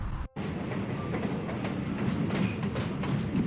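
A video game subway train runs along the tracks with a continuous low rumble and faint rhythmic clatter, heard from inside the car after a brief cut to silence at the start.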